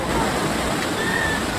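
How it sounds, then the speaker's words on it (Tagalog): Kapitan River Falls in Calbayog, Malilipot, Albay, a free natural spring waterfall, pours in a steady broadband rush of falling water, continuous and fairly loud throughout with no break. "Kapitan River Falls"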